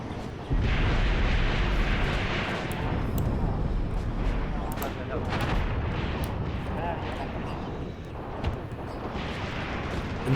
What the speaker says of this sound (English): look at all this tracer fire just from our units, our standard infantry units